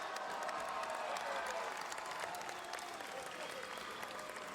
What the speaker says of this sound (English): Let's have one more round of applause for this final this year.